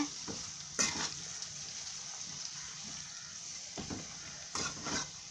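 Small gooseberries are stirred in a pan for pickle, giving a faint continuous sizzle with a few soft scraping bursts of the spoon against the pan.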